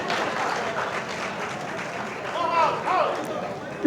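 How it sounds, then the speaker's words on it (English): Audience clapping at a 75th anniversary launch and fundraising event: steady, moderately loud applause from a crowd for a few seconds, with a brief louder sound at the very end. "Can we give him a round of applause?"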